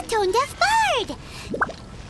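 The tone-deaf bird in Genshin Impact lets out warbling, swooping calls, then a few short chirps, close and clear.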